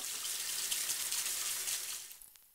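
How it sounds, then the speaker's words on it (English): Tap water runs steadily into a sink as deer antlers are rinsed beneath it, a soft close hiss and splash that cuts off with a few trailing drips at the end. "go ahead and take it to the sink and start rinsing it off."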